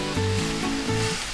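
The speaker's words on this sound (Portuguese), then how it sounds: "Vou pôr um pouco de alho agora," Garlic sizzling in a hot pan while japchae is cooked, a steady hissing fry heard close up, with faint tonal hum beneath and no talking.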